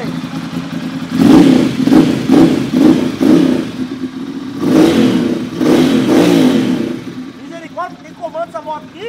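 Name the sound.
motorcycle engine revving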